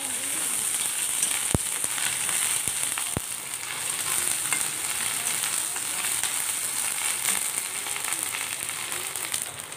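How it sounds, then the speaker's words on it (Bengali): Garlic and ginger paste frying in oil gives a dense, even sizzle close by, with a few sharp utensil taps against the pan early on. "রসুন বাটা দিয়ে দিলাম, আদা বাটা দিয়ে দিলাম, দিয়ে আমি তেলের মধ্যে ভালো করে ভাজে নেব।"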